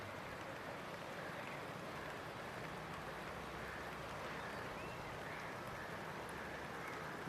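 A flood-swollen river in Lalitpur, Nepal, flowing down from Kathmandu, produces a continuous broadband roar and rush of water, steady and fairly distant, with no voices over it.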